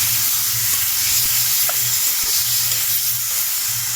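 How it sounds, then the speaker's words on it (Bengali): Tomato paste with green chili paste and garlic stir-fried in a pan, giving a steady close hiss of sizzling throughout, with occasional faint stirring scrapes and no voices. "তো এটা কাঁচা লঙ্কা বাটা দিয়ে ভালো করে নেড়ে চেড়ে কষাবো।"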